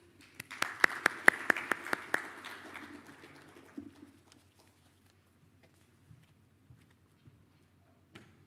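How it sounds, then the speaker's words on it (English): A conference audience gives a short round of applause, starting with a few sharp, loud claps and thinning into softer scattered clapping that fades out within about four seconds, leaving a quiet hall with occasional faint knocks. "a warm round of applause"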